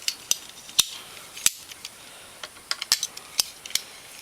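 Gear reduction gears on a Honda Fourtrax 300 ATV being turned by an Allen head bolt, heard as sparse, light metallic clicks and ratcheting ticks close by, with no talking.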